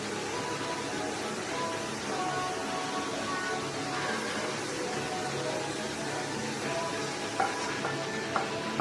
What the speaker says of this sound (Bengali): মানে চিকেনের মধ্যে এবার রাইসটা দিচ্ছ?